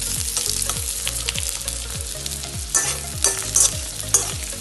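Onion frying in a couple of spoons of oil for spicy cauliflower palya, with a steady sizzle and a spoon scraping the pan in a regular rhythm, plus a few sharper clatters near the end.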